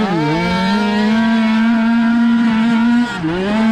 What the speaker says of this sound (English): Long line of traffic coming out of the woods here.